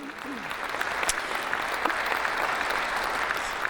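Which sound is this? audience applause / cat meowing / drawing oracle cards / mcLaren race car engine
audience applause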